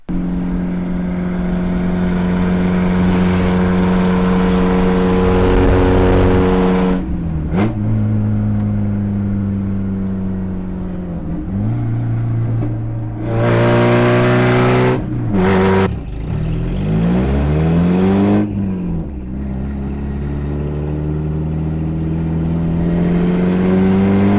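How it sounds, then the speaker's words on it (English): A very loud, raw Mazda Miata 1.8 engine with no exhaust system idling and repeatedly revving up and dropping back, harsh and unmuffled, recorded up close. "With no exhaust on it. It was ridiculously loud."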